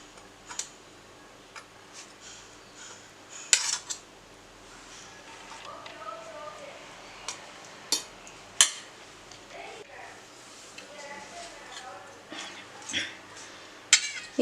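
A metal fork scrapes cooked chicken meat off the bones for chicken soup, making scattered light ticks and clinks against a dish, irregular and fairly quiet in a calm room.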